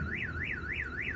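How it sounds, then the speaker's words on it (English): A nearby car alarm wails in a steady rising-and-falling siren pattern, four even sweeps repeating loudly over low background noise. "Oh, it set off a car alarm over there."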